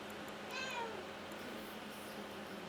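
A cat meows once, a short, faint, descending call heard from a distance over a constant hiss of background noise.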